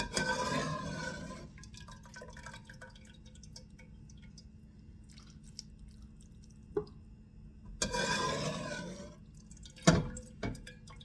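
Liquid drained from sauerkraut pours and splashes in two short bursts separated by quiet, with a few drips and clinks, close and moderately loud.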